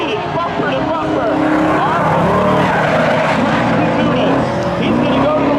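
Subaru spectator drag car racing at Seekonk Speedway, a loud, steady engine roar with rising and falling tones close by, with a commentator talking over it throughout.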